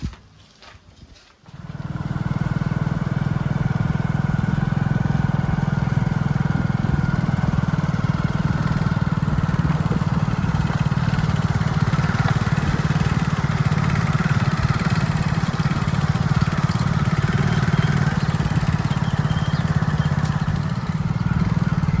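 A motorcycle engine starts up and runs steadily, a low continuous rumble that holds at an even level as the bike rides along.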